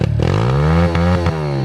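A small pit bike engine screams at the rev limiter, a loud, high buzzing whine broken by quick rhythmic cut-outs as the limiter stutters, very close and alone.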